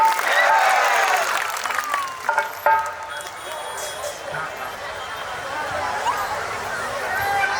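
Village audience clapping at a Ram Leela stage performance, a fairly loud burst of applause at first that thins into scattered claps and crowd murmur with voices talking over it.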